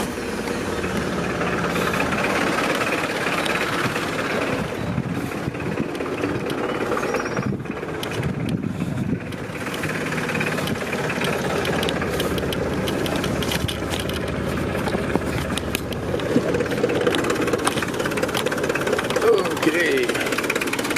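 A 1993 Mitsubishi Delica Starwagon Chamonix 4x4 with a 2.5 liter turbo diesel idles with a steady, close, gravelly rumble that holds evenly throughout, with faint rattles and shifts layered over the drone.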